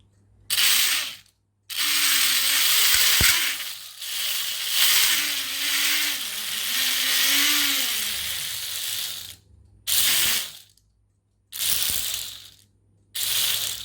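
Small brushless motor in a 3D printed boat, powered by a 2S LiPo through a brushless ESC and servo tester, whirring in several bursts of varying speed with short pauses between, loud and close with no talking.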